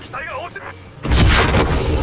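Gunfire in Call of Duty Modern Warfare: after a brief quiet stretch with a faint tonal sound, a loud, dense burst of shots erupts and sustains to the end.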